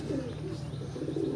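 Steady low cooing from a female pigeon in a loft goes on throughout against a constant background murmur, close and without pause.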